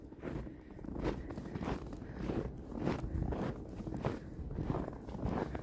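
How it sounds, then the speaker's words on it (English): Footsteps crunch through fresh snow on a freezing day in Toronto: an even walking rhythm of soft crunches, about one step per half second, close and fairly quiet, with no other sounds. "the perfect crunchy snow"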